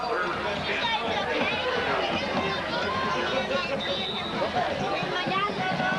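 Crowd at a high school football game, Nelsonville York against Alex; a steady murmur of chatter and distant cheering fills the stands, with a voice talking over it.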